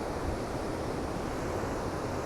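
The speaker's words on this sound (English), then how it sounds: "Can you folks hear the ocean roar?" Ocean surf at a San Francisco beach roars in a dense, steady wash of broadband noise, loud and continuous with wind buffeting the microphone and no voices.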